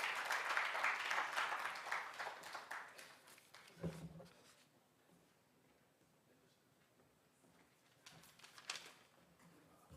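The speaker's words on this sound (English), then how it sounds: "another round of applause" Audience applause at a public event marking International Zero Tolerance for FGM in Moroto District, Uganda. It is dense and fairly loud for about four seconds, then fades to scattered sounds, with a brief burst of clapping near the end.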